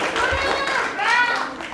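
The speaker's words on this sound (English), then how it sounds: "Everybody give him a round of applause" An audience at a live wildlife animal show claps in a brief round of applause, the clapping soft and blended beneath nearby talking voices.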